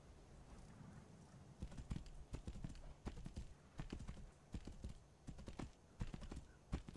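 Rhythmic clip-clop of horse hooves trotting steadily in the video game Tainted Grail: The Fall of Avalon, fairly close and clear, with a brief faint whinny-like sound.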